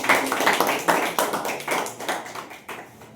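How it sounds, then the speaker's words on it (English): Classroom students clap for a classmate after her speaking-round presentation, giving a short, steady run of brisk, close handclaps in a quick rhythm that trails off at the end. "please clap for her"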